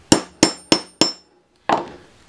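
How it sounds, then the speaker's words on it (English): Four sharp hammer strikes at an even pace on a leather pen loop, close and loud, then a pause and one more blow; no talking. "I don't normally like to use a hammer"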